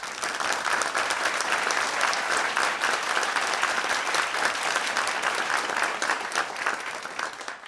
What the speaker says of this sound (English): I think we owe John a huge thank you and a round of applause